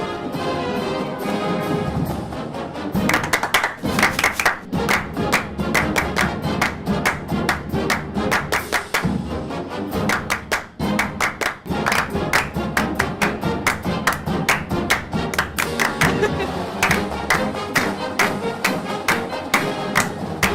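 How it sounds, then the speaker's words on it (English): Steady rhythmic hand clapping keeps time in a practice session with a band, dense sharp claps running continuously and fairly loud over a busy musical backdrop. "Just clapping now."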